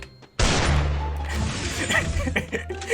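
A sniper rifle shot in Free Fire cracks out sharply after a quiet lead-in, followed by a ringing decay and scattered game sounds.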